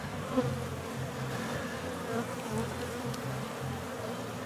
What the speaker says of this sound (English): I'll shake the bees off